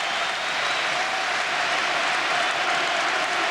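A large stadium crowd of nearly 50,000 at an Ajax v Rangers Champions League match applauds loudly and continuously as a player is substituted off, a dense steady roar of clapping.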